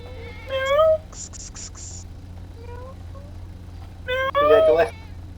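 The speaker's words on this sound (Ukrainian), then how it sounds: "Дивіться, в мене котик на руках." A cat meows loudly twice, close by, with short high scratchy bursts and faint murmuring between the cries.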